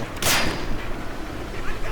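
A grenade launches with a sharp burst and rumbling blast in the Medal of Honor Breakthrough war game, followed by a busy layer of distant gunfire and battle noise.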